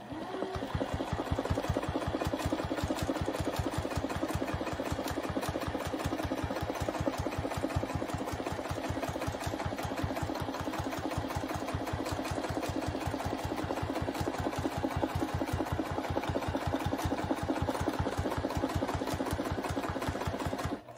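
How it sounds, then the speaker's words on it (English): A sewing machine runs steadily during free motion quilting with a template, its needle stitching in a fast, even rhythm for the whole stretch at a constant moderate loudness, with no talking. "now we are going to do our first stitches"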